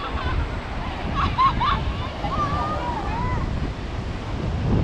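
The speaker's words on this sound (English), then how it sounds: "Yeah, it's called Haksai Beach." Surf rolls onto Hac Sa black sand beach in Macau, a continuous wash of waves mixed with wind buffeting the microphone, with faint distant voices or bird calls in the background.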